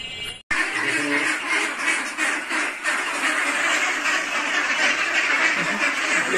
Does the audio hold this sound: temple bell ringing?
no